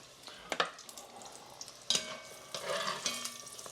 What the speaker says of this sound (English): Let that tofu fry up.